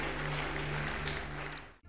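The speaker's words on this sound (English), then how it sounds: "Clap your hands right now for Jesus" A church congregation claps for Jesus in a steady, dense wash under a low hum, then it cuts off abruptly near the end.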